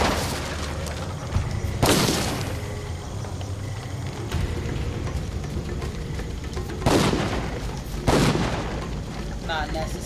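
In the video game Dungeon Siege 3, a shot barrel explodes with deep booms and crackling blasts, several heavy bursts spread across the stretch, set against game noise and a talking voice.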